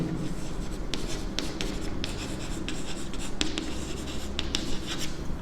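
A pen scratches across paper as a maths solution is written out, with steady, close strokes and short scribbles repeating throughout and no voice over them.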